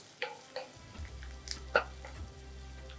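Onion softens in a pan for a breakfast upma, with a quiet low sizzle and a few soft clinks and scrapes of stirring. The sound stays faint and close, and there is no talking.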